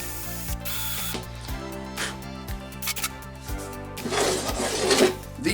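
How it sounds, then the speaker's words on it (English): Screwing a router base down onto a homemade wooden router table, with steady ratcheting, grinding mechanical turns and scraping rubs, close up, continuous and fairly loud, growing busier toward the end. "Now to screw it down onto the actual table."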